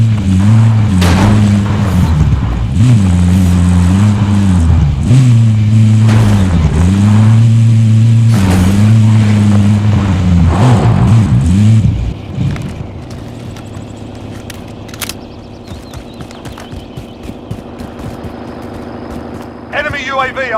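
Car engine driving in Call of Duty Warzone, a steady loud drone with rising and falling revs that cuts off around twelve seconds, followed by quieter game ambience with game voice callouts over it.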